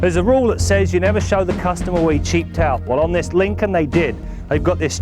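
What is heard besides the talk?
No distinct noise like a dog, phone or traffic.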